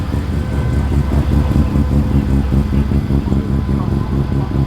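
Two rotary-engined muscle cars rumble past at a street muscle car show at the old ANZ Accor Stadium, with loud, close, throbbing engine burble pulsing steadily throughout.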